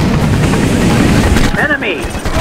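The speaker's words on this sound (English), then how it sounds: "Anti-aircraft gun!" Anti-aircraft gun fire in the helicopter rescue game Choplifter: a dense, continuous rattle of rapid shots under steady rotor noise, with a couple of whistling, sweeping tones near the end.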